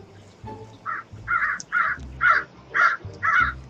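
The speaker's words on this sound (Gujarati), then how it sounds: "તેને ભૂખ લાગવાને કારણે તે કા કા કરવા લાગ્યો." A hungry crow in a forest gives six loud, harsh caws in a steady, evenly spaced series, standing out clearly over a quiet background.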